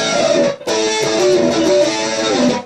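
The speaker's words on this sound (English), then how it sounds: "adding a little bit of flange" Les Paul electric guitar through a Vox AC-30 with a flange effect plays a brief, loud, overdriven melodic run of sustained notes, up close and unaccompanied.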